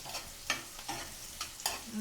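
Scraping strokes of a spatula stirring onions in a pan, several quick scrapes over a soft, continuous sizzle.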